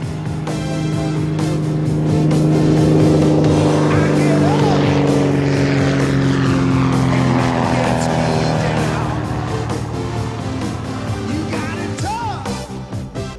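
A Cessna 185 propeller plane drones steadily as it climbs toward skydiving altitude, a loud, continuous engine hum heard from inside the cabin under a narrating voice.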